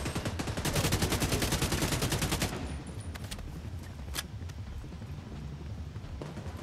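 Rapid automatic gunfire in the video game The Division 2, a loud sustained burst of evenly spaced shots for about two seconds, then scattered single cracks fading into a quieter ambient bed.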